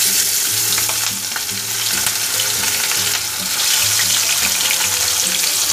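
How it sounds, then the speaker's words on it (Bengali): Bata fish sizzling and frying steadily in hot oil in a pan, a loud continuous crackle with occasional stirring clatter, no voices. "মাছগুলোকে আমি একটু লাল লাল করে ভেজে নেব।"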